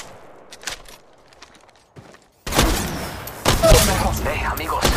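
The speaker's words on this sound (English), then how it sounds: "Shots fired, and they're hitting me." Gunfire erupts in Apex Legends: after a few faint taps, a loud burst of shots kicks in halfway and carries on to the end as a dense, continuous barrage.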